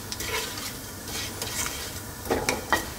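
Whole spice seeds and dried chili crackling in hot oil for a few seconds, a dense close sizzle with brief spits and a few light clinks of a utensil against the pan.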